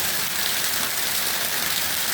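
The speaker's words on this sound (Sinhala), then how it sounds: "දිත්‍රාගෙන් පස්සේ ආයෙමත් වැස්ස" Heavy rain pours down in a dense, steady hiss, loud and continuous throughout with no voices, during a thunderstorm in Colombo.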